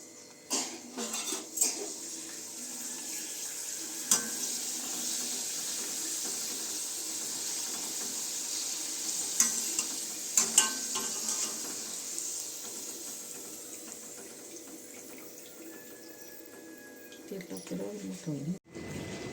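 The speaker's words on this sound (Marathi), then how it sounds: "चला आपण पापड आता तळून पाहू" Urad and moong dal papad deep-fried in hot oil, giving a continuous, fairly quiet sizzling hiss broken by occasional sharp clinks of utensils, with someone talking over much of it.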